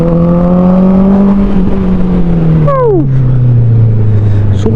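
Honda CBR 650R motorcycle with its dB killer removed, a loud, raspy inline-four exhaust held at steady high revs, then a quick throttle blip and a drop toward a lower drone, close and continuous.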